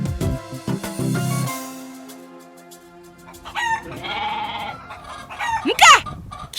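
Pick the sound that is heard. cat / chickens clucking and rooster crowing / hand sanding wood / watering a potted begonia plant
chickens clucking and rooster crowing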